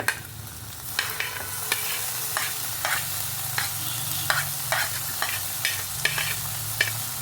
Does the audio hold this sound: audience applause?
no